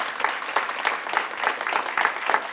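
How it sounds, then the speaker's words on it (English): A crowd at a school board meeting applauds with dense, sustained clapping that carries evenly through the whole stretch, without any speech over it. "It's nice to have a big crowd to applaud."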